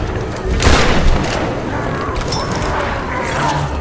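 Suppressed gunfire in the Tomb Raider video game, a burst of muffled shots and mechanical clatter early on, then lighter action noise, loud and close with a voice speaking over the game sounds.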